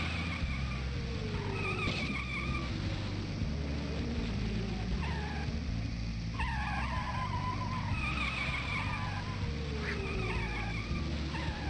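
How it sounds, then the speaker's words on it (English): Cartoon car tires squeal again and again in the Putt-Putt racing video game, repeated skidding squeaks over a steady, buzzy engine-like hum that runs throughout. "Oh, all of these car squeaking noises."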